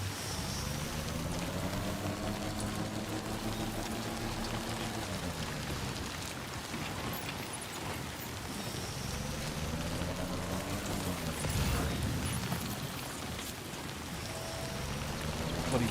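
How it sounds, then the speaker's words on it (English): Heavy rain pours steadily in the video game Death Stranding 2, a dense continuous hiss of a downpour with a low engine-like drone rising and falling beneath it. "Bloody downpour."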